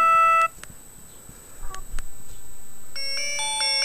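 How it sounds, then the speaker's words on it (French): A big-button Classic Max mobile phone plays short electronic ringtone melodies, one at the start and another near the end, with soft taps and clicks between them. "Donc vous avez une dizaine de sonneries différentes."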